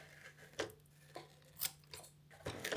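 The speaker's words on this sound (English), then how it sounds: "snip it with scissors" Scissors snip hair tangled on the roller brush of a Eufy X10 Pro Omni robot vacuum, a few sharp, close cuts spaced irregularly against a quiet room hum.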